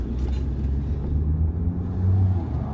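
Interior drone of a car cruising along a road on a long trip, a loud steady low rumble with engine hum and road noise, no talking.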